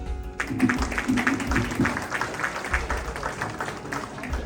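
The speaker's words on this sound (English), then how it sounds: "Let's give them a round of applause" A gala audience applauds newly installed officers, a crowd's clapping heard moderately loud across the whole stretch with some low murmuring underneath.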